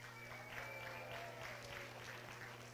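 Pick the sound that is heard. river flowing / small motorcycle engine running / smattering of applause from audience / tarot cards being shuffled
smattering of applause from audience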